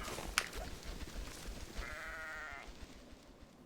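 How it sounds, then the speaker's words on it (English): A single sheep bleat in a video game, faint and brief, a wavering cry over a quiet ambient background. "More sheep."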